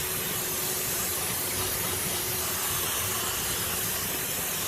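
Cleaner sprayed onto the rear brake assembly of a 2005 GMC, a steady, close hiss that runs without a break and with no talking.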